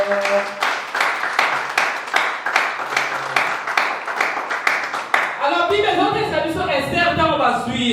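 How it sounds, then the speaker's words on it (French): A charismatic church congregation at an international convention claps in quick bursts while a voice calls out, then the crowd breaks into loud cheering and shouting that fills the hall. "Acclame pour le Seigneur"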